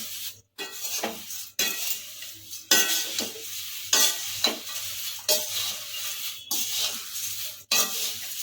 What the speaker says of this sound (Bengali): আবারও ভালো করে নাড়বো খুন্তি দিয়ে নাড়লে পরে না বেশি ভেঙে যায় তাই আমি লুচি ভাজার এই ছান্তাটাকে ব্যবহার করছি